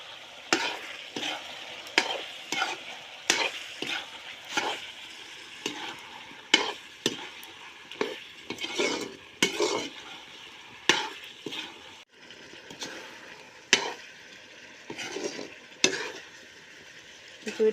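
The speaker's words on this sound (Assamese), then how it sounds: "মাংসখিনি ভাজা হৈ গ'ল" Chicken curry meat, Assamese style, fries in a pot over a fire while a spoon stirs it, giving a steady run of scraping strokes over a continuous sizzle with no talking.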